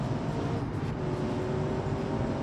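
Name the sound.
LS7 V8 engine-swapped vehicle accelerating in BeamNG video game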